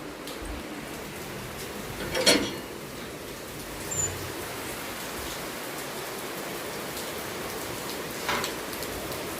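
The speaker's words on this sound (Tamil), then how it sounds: "அதுக்குள்ளே மழை வருது, வெளியே பார்க்கலாமா?" Steady rain falls outdoors, a soft continuous hiss throughout, with a few brief louder drips or splashes standing out now and then.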